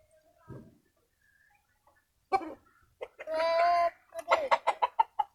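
A Fayoumi chicken being vaccinated lets out a few close clucks and squawks between quiet gaps, ending in a rapid run of short, sharp clucks.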